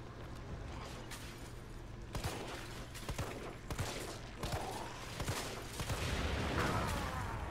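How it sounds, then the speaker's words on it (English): Gunfire in Resident Evil 3 Remake, aimed at a red barrel, comes as a dense stretch of sharp shots and bursts over a steady game background hum, with several loud cracks near the middle and a louder rumbling swell toward the end. "shoot the red barrel"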